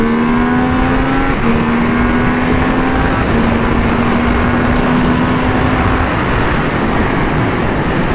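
A Triumph Speed Triple 1200 RR three-cylinder motorcycle at full throttle on a race track: a loud, steady engine roar with a rising whine as it revs up through the gears, then holds at high speed, close and continuous, with no speech.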